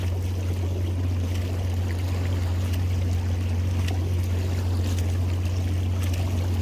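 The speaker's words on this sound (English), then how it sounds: "Just had a boat go by." A passing boat's motor drones steadily, a low continuous hum over lapping, rushing water, constant in level throughout, heard while trotline crabbing.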